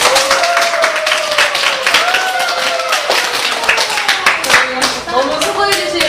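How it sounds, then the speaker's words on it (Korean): Audience applause at a church community café event, steady dense clapping from many hands filling the room for several seconds, with a voice speaking over the top. "큰 박수 부탁드립니다"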